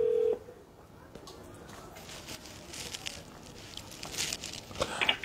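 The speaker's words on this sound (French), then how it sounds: "Je l'appelle d'abord sur... numéro normal, et puis je vais lui dire de se connecter." Telephone number dialed on a phone for a call to Guinea, a quick run of short key tones close by after a brief steady tone at the start, with faint rustling and room noise around.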